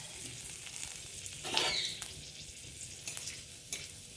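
Whole cumin, dried red chilli and bay leaf sizzle steadily in hot oil, with a sharper burst of crackle partway through and occasional scrapes of a spoon stirring the pan, with no voices.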